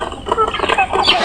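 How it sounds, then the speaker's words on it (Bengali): Chickens on a small farm cluck and call in a busy, close cluster of overlapping bird sounds, with no clear talk over them. "এই হলো আমার ছোট্ট খামারের মুরগি"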